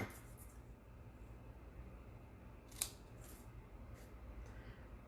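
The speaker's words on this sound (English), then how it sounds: "Just cut the ends on an angle" Flower stems for a peony craft project are snipped with scissors at an angle, giving a single sharp, close cut near the middle over a quiet room hush, with a few fainter clicks around it.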